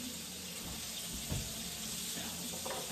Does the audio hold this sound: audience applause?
no